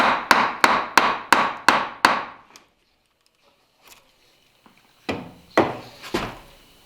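A chisel is struck into a timber frame mortise to clean it out, six sharp, evenly spaced knocks ringing out close by, then a quiet pause and three more scattered blows.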